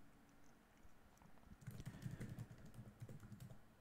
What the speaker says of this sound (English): me typing isn't obviously the most entertaining thing